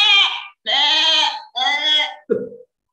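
A goat bleats three times in a school play at an Islamic elementary school, each call long and wavering, followed by a short lower grunt, loud and close with no talk over it.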